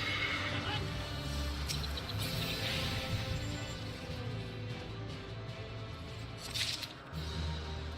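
A horse neighs and whinnies in a Final Fantasy online game, a clear whinny rising over steady game music and ambient effects, with hoof clip-clops faintly in the mix.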